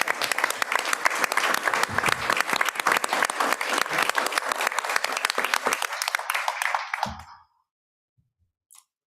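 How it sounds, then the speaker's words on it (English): A standing audience claps loudly and steadily at a school board of education meeting, the applause holding for about seven seconds before cutting off into near silence broken by a faint click. "we're going to stand and give you a round of applause as well"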